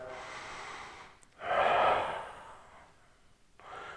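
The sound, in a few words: breathing in through nose, out through mouth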